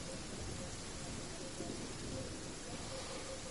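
Video game rainstorm ambience: a steady, dense hiss of rain with low rumbling thunder underneath, evenly loud throughout and fairly quiet overall, with no talking.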